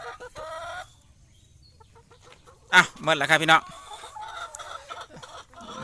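Hens cluck in a laying-hen coop of about twenty birds, with close, loud bursts of squawking and clucking between quieter stretches, and someone talks in between.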